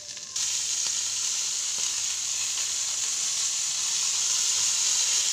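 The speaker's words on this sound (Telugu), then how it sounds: "ఉస్తికాయలు వేసి బాగా వేపుకోవాలన్నమాట" Green ustikaya berries fry steadily in hot oil, a bright continuous sizzle that starts abruptly and holds loud and close throughout, with no voices.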